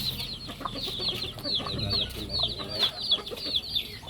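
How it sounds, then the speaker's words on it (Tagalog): A gamefowl broodcock rooster, somewhat lame, clucks repeatedly in a farmyard, a steady series of short close calls with faint background bird and farm sounds. "Ito naman yung ating broodcock, medyo pilay-pilay siya ngayon."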